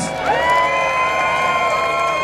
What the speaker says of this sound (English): So if you can give a big cheer for all the speakers, that'd be great.